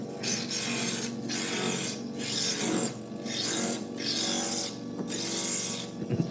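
A diamond grinder rasps against stained glass in about six rhythmic strokes, each a loud gritty scrape over a steady motor hum, up close with no talking.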